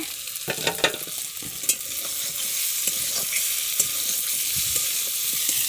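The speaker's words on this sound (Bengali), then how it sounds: "মশলা ভাজা হয়ে গেছে। আজকে এটা কষা চিকেনটা একটু দিয়ে দিচ্ছি।" Chicken pieces fry in spice masala that has already been fried, with a loud, continuous sizzle and repeated scraping and knocking as the pieces are stirred in the pan, and no speech.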